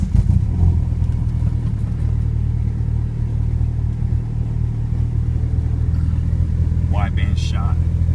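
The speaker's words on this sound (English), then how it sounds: "Get a little video of a cold start. How she cold starts." A car engine idling after a cold start, a loud, steady low rumble with a rapid throb throughout and a brief chirp near the end.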